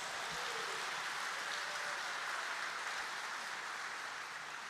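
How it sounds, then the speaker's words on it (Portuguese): Broad, steady applause from a crowd, a dense wash of clapping that holds without a break throughout. "Dá um aplauso aí para Jesus."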